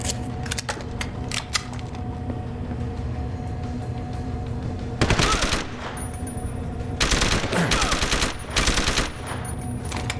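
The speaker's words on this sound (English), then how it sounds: "is somebody shooting?" Gunfire in the video game Deus Ex: Human Revolution, sharp single shots early on, then two loud sustained automatic bursts with a pause between them, and a little faint talking.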